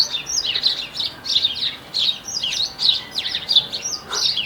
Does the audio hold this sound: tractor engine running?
no